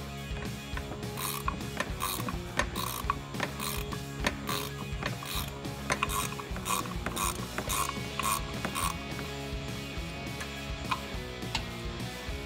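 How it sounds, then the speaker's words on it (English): A 16mm ratcheting wrench turning the upper shock bolt on a Jeep Wrangler JK, a steady, continuous fast clicking of the pawl sounding close and loud throughout, with no talking. "I'm going to use a 16mm ratcheting wrench on the top part of our shock"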